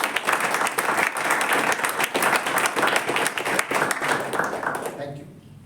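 Loud, sustained audience applause fills a ceremony hall during an oath-taking and installation event, with dense overlapping claps that continue steadily before fading out near the end.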